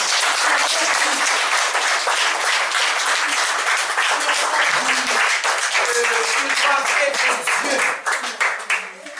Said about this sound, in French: Je vous demande d'applaudir ces frères.